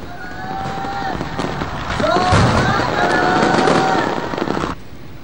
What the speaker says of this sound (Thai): ที่เห็นอยู่นี้เป็นการแสดงพลุดอกไม้ไฟ ไปโรเทคนิคชุดพิเศษนะครับ